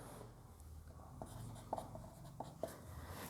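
Chalk or marker writes a math example on a classroom board, faint scratchy strokes with a few sharp taps, set against a steady room hum and no talking.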